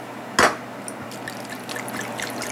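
Wine and water are poured into a pot for oven-baked beef ribs, giving a brief splash followed by a steady low liquid trickle and faint clinks, close up and without speech.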